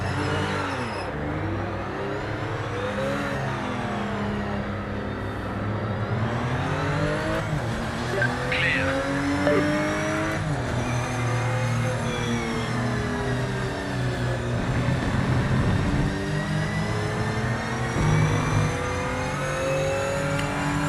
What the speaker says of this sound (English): I think these Porsches sound nice